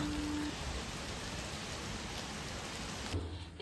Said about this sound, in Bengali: এখন বাইরে হচ্ছে মেঘ দেখে ঝমঝম করে বৃষ্টি